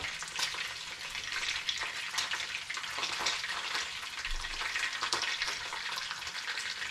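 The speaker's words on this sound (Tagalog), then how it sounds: "I-check natin mga boss ng ating piniprito." Pompano fish frying in hot oil, a steady dense sizzle with crackling pops throughout, close and continuous with no voices.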